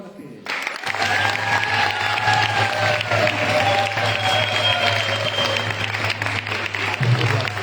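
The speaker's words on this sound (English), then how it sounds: "Clapping for the period." A crowd at a retreat in Holland keeps up loud, continuous applause, a dense even clatter of many hands that starts abruptly and holds steady throughout, with a faint tonal hum and some voices underneath.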